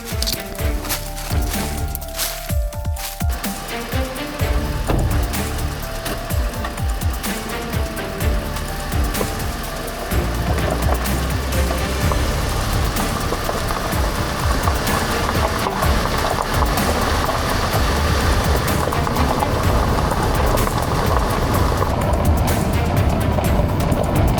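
A truck drives along a road, its engine and tyre rumble running steadily and close throughout, with a rougher, louder stretch of shifting and bumps at the start.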